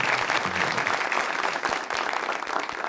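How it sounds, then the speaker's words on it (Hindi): At an Eid-ul-Adha special stage show, the crowd gives a hearty round of clapping for Bhatt sahab, a continuous, fairly loud patter of many hands with a few sharper claps standing out. "तो भट्ट साहब के लिए जोरदार तालियां बजाइए"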